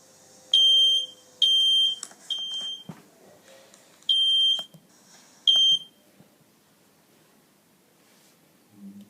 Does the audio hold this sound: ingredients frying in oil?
no